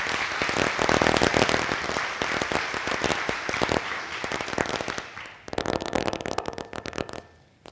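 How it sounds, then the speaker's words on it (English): An audience at a chamber of commerce luncheon applauds first responders and frontline workers, with loud, dense clapping that sustains for several seconds, dips briefly, then rises again before fading. "Please join me in giving these folks a round of applause."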